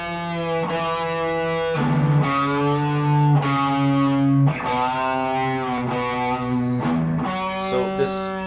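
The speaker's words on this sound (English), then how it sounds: "We'll lose the wah pedal, but we'll keep the distortion." Distorted electric guitar plays a chromatic riff, with no wah pedal, in sustained descending notes that ring loud and close for several seconds.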